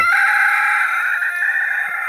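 An Onagadori, a long-tailed Japanese rooster, crows loud and close in one long, drawn-out, sustained call with no talking.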